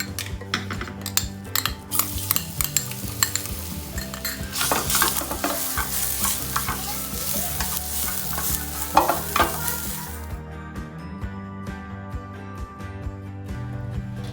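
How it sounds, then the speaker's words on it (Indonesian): Ground garlic and candlenut paste sautés in hot oil for Indonesian meatball soup, a loud close sizzle under constant scraping and stirring clatter of a utensil against the pan, the hiss dropping away abruptly near the end. "Nah, sekarang kita akan tambahkan minyak. Lalu kita tumis ya."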